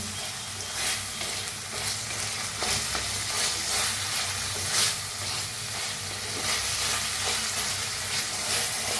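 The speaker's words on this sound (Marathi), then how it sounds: "ते टमाटोला बी मिक्स करून कांद्यासंग भाजून घेऊया" Tomato and onion with coriander roast in a hot pan, giving a steady, close sizzle with stirring scrapes, no voices over it.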